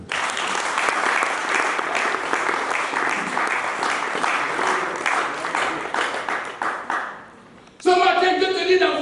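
A church congregation applauding and acclaiming the Lord, with sustained loud clapping and cheering that runs for about seven seconds and then drops away before a brief bright tone enters.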